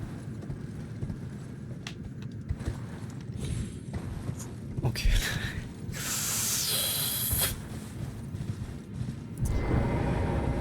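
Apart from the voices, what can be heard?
horse hooves galloping in Elden Ring video game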